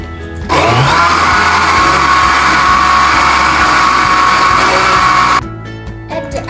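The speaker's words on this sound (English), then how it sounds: "Run on the blender until smooth." A blender whirs loudly and steadily for about five seconds, blending dragon fruit with sugar, yogurt and water into juice, then cuts off abruptly.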